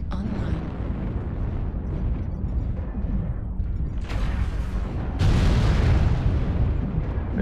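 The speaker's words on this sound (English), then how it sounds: "Airstrike online." Airstrike explosions in MechWarrior 5 roll in as a dense, continuous rumble of booms and bursts, with a heavier surge of blasts near the end, loud and close.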